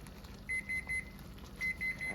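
A kitchen timer beeps in two bursts of short, high, evenly spaced beeps, clear over a low steady hiss from sugar syrup boiling on a stovetop burner.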